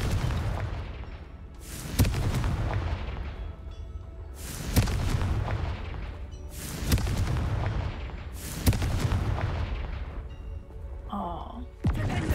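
Confringo explosion spells cast in the Hogwarts Legacy video game: about five heavy booms at regular intervals, each followed by a long rumbling decay, with a brief chirpy magical flourish near the end.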